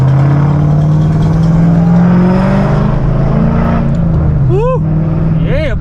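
Sharp engine pops and crackles from a Ford Mustang GT exhaust burst out near the end, over a steady rumbling motor and a rising rev.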